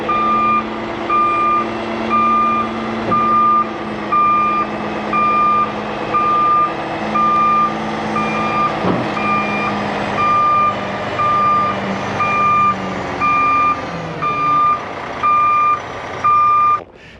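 A Peterbilt 367 slope-nose dump truck backs up with its reverse alarm beeping in a steady, regular pattern over the loud idling diesel engine, close by, with a brief air-brake hiss near the end.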